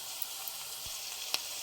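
Curry leaves crackling in hot oil produce a steady, soft, close sizzle, with a couple of sharp pops and a light utensil tap.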